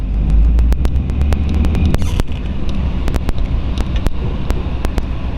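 A 1938 Ford two-door bustle back sedan retro-rod with a flathead V8 drives along, its steady low engine rumble mixed with wind buffeting and a scattering of sharp ticks and clicks throughout.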